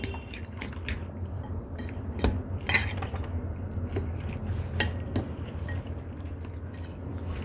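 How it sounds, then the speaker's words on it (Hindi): Eggs whisked with salt and pepper in a bowl: soft wet squishing and sloshing under repeated light clinks of a utensil against the bowl, close and moderately quiet, with no voices. "तमाम चीज़ों को मैंने अंडे के साथ अच्छे से मिक्स कर लिया"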